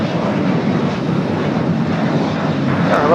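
A Boeing 757 airliner touches down at LAX, its engines giving a broad, steady roar that stays loud and close throughout without breaks or voices.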